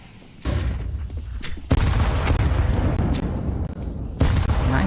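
Grenades going off in Counter-Strike 2, a few heavy booms in quick succession with a sustained rumbling wash between blasts, loud and close.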